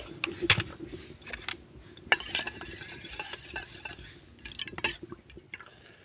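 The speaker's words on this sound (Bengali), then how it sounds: "আর এখানে দিয়ে দিব আমি দু চামচের মতো জল মানে ভিনিগার আর জলের সঙ্গে ভালো করে মিশিয়ে নিতে হবে" Spoon stirring vinegar and water together in a small cup while making a steamed cake, with light clinks against the rim and brief louder scrapes, close and fairly quiet with no talking.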